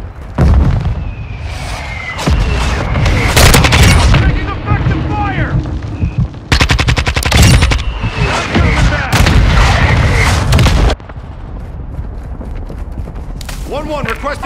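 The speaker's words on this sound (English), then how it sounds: "Mortar strike inbound now." A mortar strike in Call of Duty: Modern Warfare II lands as a series of loud, heavy booms and blasts, close and repeated across the span, with gunfire and radio chatter from game voices in between.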